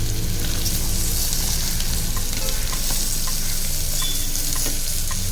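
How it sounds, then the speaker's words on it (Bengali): Moong dal and carrot frying in a pan give a continuous, close hiss of sizzling with faint stirring clicks, steady and unbroken. "মুগ ডালটা একটু ভাজাও হবে, ভাজা ভাজা হবে।"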